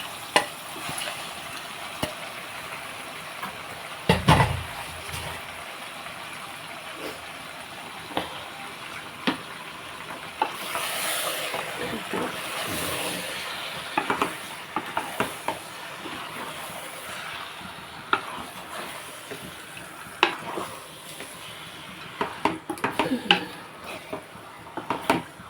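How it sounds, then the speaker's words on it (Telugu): Chicken pieces are stirred into a pot with salt and chili for a curry. A spoon scrapes and clinks quietly against the metal in scattered knocks over a faint background. "నేను ఇప్పుడు చికెన్ వేసేస్తున్నాను శుభ్రంగా చికెన్ అంతా వేసి కలిపేసి మూత పెట్టేస్తే"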